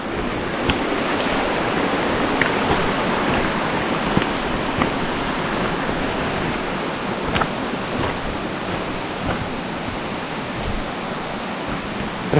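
Steady, broadband rush of the Maniava waterfall in the Carpathians, loud and continuous throughout, with no voices and a few faint clicks scattered through.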